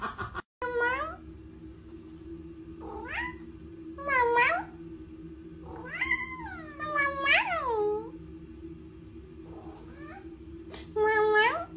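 A house cat meows repeatedly in short rising-and-falling calls, some drawn out into whiny wails, spread across the stretch over a steady low hum, fairly close and moderately loud.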